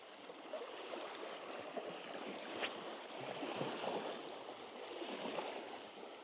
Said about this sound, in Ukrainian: Хвиля сильна